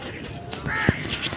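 Crows caw in a park in Lahore, one clear call standing out amid soft background chatter and ambient outdoor noise.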